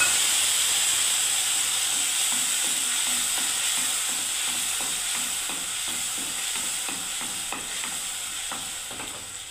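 Tomato paste frying in a pan with cumin over low gas, a loud steady sizzle and hiss broken by repeated scraping stir strokes, no voices.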